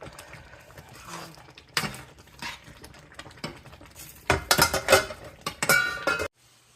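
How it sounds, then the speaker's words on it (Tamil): Irregular clinks and scrapes of a spoon against a metal pot of semolina for rava kichadi, sparse at first and then quicker and louder in short bursts of stirring. "இந்த மாதிரி கட்டியெல்லாம் இல்லாமல் கிளறி விடுங்க."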